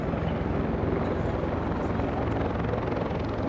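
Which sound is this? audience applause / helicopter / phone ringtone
helicopter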